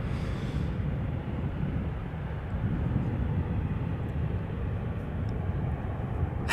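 Airliner taking off and climbing at Amsterdam Schiphol Airport, a steady low roar of jet engines heard from a distance, rumbling evenly throughout with no voices.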